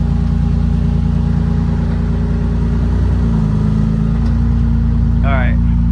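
A 508hp BMW M3 engine idles loud and steady, with a low constant drone and a brief throttle change midway as the car rolls off wooden blocks.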